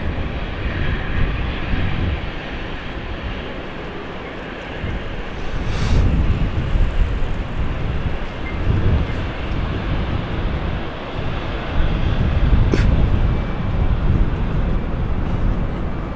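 A Kenya Airways Boeing 787 airliner at London City Airport produces a broad, steady roar mixed with wind, swelling and easing as it turns.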